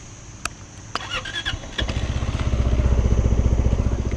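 A Zontes 368G V2 motorcycle engine cranks with a few clicks and sputters, then catches and settles into a steady, throbbing idle close by.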